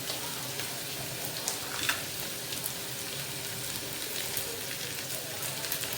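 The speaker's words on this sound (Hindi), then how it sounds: "इस तरह से डाल दूँगी मैं हरी मिर्चें, ये भी फ्राई होंगी।" Chopped green chillies frying in hot oil for Afghani chapli kabab, a steady crackling sizzle that holds for six seconds, close by and even, with small pops scattered through it.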